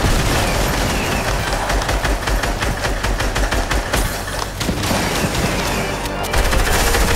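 Gunfire in the video game Fortnite during a duos match, loud rapid bursts of automatic shots layered with heavier booms, nearly continuous and dense, with faint game sounds underneath.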